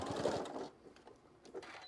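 A sewing machine back tacks a seam on a shoulder wrap, running a brief, quiet burst of rapid stitching that stops and then gives a few faint mechanical ticks.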